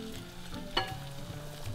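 Beef pho broth boils in a pot with a steady bubbling sizzle, close and moderately quiet, and a brief sharper clink partway through.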